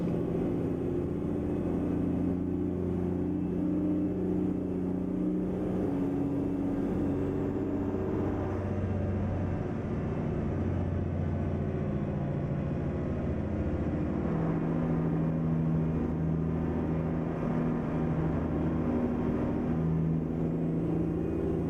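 A Mack EM6-237 truck engine with a MaxiTorque TRL1087 transmission drones steadily in American Truck Simulator, its low rumbling tone shifting pitch slightly as the truck slows and downshifts.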